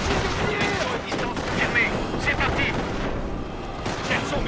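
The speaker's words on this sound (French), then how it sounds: "L'infanterie ennemie nous mitraille." Enemy infantry machine guns fire in the World War II strategy game Company of Heroes, with rapid bursts of gunfire and distant booms in a dense continuous battle din.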